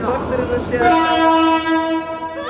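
A train to Jaipur, India, sounds its loud, sustained horn close by over rumbling rail noise, and a voice can be heard faintly underneath.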